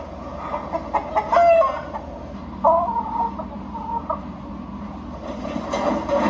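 Chickens cluck close by in a scene from the Fallout TV series, a few bursts of cackling and clucking over a steady low rumbling background hum.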